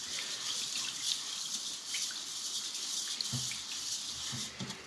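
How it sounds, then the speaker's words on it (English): Rice being rinsed under a running kitchen tap to wash away starch for pork-fried rice, a steady close hiss of flowing water with a few soft sloshes and clinks, no voices. "So you just keep on rinsing."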